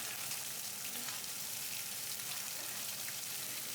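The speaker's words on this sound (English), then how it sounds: "First grill your meat and then add an onion and a carrot." Meat frying in a pan with onion and carrot while cooking a Halloween meal: a steady, even sizzle with soft crackle throughout, close and continuous, with no talking.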